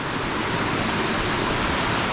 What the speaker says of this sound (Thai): อันนี้เป็นสายน้ำตกที่ว่า ไหลลงมาจากสันเพิง